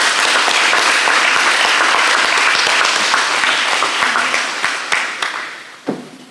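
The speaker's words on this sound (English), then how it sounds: "can we please give another round of applause to all the high flyers?" Crowd at a school awards ceremony breaks into sustained applause, thick and even at first, then thinning into scattered claps before a last few isolated ones.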